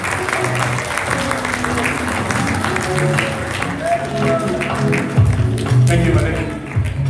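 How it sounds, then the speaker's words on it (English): Audience applause at an awards ceremony in Lagos, a steady round of clapping with crowd noise that continues under background music and voices, swelling slightly toward the end. "A round of applause as you come forward,"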